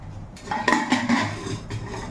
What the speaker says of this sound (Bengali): ডালটাকে খুলে দেখি যে ঠিকঠাক হয়েছে কিনা।